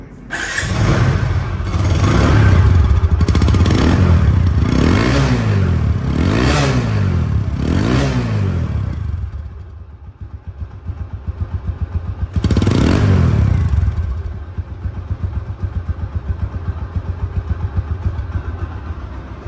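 A second-hand TVS Apache RTR 160 2V motorcycle engine runs loud and close, revved repeatedly in rising and falling surges, then settles to a steady idle before one more sharp rev.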